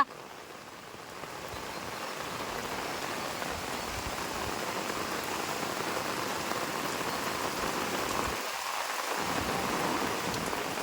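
Heavy rain pouring down outside during a power cut, a steady, dense roar of rainfall that stays loud and continuous throughout, with no talking.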